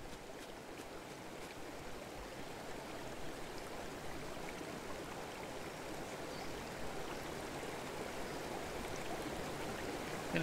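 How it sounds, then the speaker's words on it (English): Water rushing steadily from a leak in the outdoor game Open Country, a soft, even broadband hiss that stays faint and constant throughout with no talk. "We gotta find the valve and stop the flow of water."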